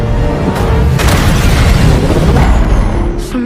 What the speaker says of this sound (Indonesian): terjadilah sebuah ledakan yang akhirnya membuat mereka berdua